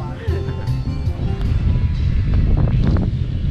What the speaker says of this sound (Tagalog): normal yung hangin na ganito. Oh, malakas talaga.